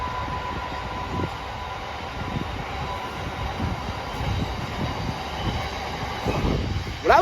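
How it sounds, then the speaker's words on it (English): A freight train rumbles past on the line, a loud, close, continuous roar of rolling wagons with rhythmic wheel clatter and rail thumps, building slightly toward the end. "Freight train!"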